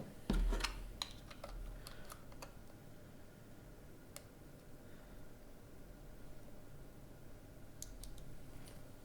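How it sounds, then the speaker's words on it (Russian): Memory cards are slid and clicked into a ZCAM K1 Pro VR camera, heard as a cluster of small plastic clicks and ticks at the start, then a few isolated clicks against a quiet, steady hum. "Мы установим карты памяти"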